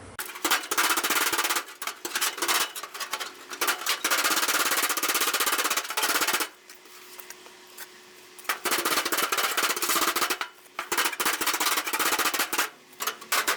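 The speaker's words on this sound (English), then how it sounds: "So we're going to keep hammering away at it" Loud, rapid metallic hammering on a sheet metal fender of a 1931 Ford Roadster in long sustained bursts, separated by brief quieter pauses with a faint hum.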